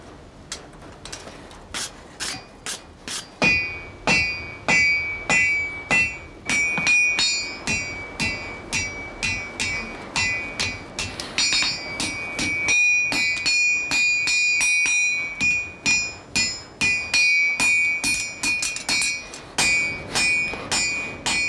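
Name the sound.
hammer striking iron while shoeing a horse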